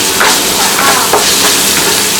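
A loud, close, steady sizzle comes from stir-frying in a wok, with a clam and noodle dish being tossed as a little salt goes in, and scraping stir strokes sound over the constant frying hiss, with no voices.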